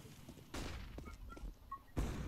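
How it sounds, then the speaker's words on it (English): A flashbang grenade goes off in Counter-Strike: Global Offensive with sharp broadband bursts, one about halfway through and another near the end, separated by quieter game noise and a few faint tonal blips. "Deploying flashbang."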